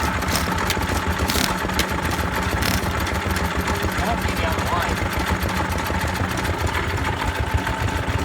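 An old engine at a vintage collection open day, cranked after a carburettor adjustment, runs with a steady rhythmic chuffing beat and mechanical clatter while people talk over it.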